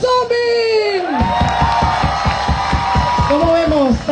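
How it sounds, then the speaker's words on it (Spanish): A crowd at a zombie walk in Mérida breaks into rhythmic clapping with whoops and cheers for a zombie, loud and sustained, following and overlapping an announcer's voice. "¡El aplauso para el Zombie!"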